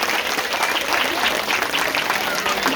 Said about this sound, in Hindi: एक बार जोरदार तालियों से स्वागत करेंगे।